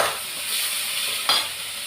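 Onions and curry leaves sauté in a pan, giving a steady close sizzle with soft stirring, and a brief sharper scrape flares near the end.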